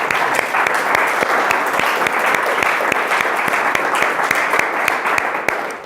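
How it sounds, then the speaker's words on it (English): Audience at a blockchain meetup in Graz giving a short round of applause, dense and even clapping at close range that holds steady throughout and fades slightly at the end. "Let's give him a short round of applause"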